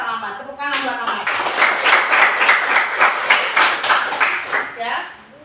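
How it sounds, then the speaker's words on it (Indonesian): Students in a classroom clap together in a quick, rhythmic burst of close, loud handclaps that starts suddenly, keeps a steady beat and fades near the end. "Tepuk tangan buat Amat"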